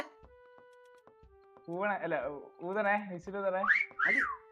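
Shrill, wavering whistle tones rise and fall in a few bursts over a steady electronic hum, sounding synthetic and close.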